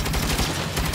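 Gunfire in the Saints Row video game: a dense, continuous burst of loud shots across the whole moment with no voices.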